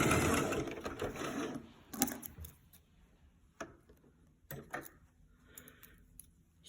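A sewing machine back-stitching along the curve of a shirt collar, a fast whirring run at first, then short start-stop bursts and ticks, close and moderately quiet.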